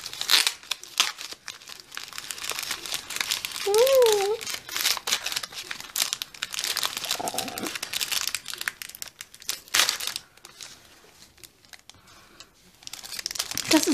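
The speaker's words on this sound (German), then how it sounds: "Das ist ja wieder eine schöne Tüte" A plastic bag is opened and handled up close, with steady crinkling and rustling throughout and a brief squeaky sound midway.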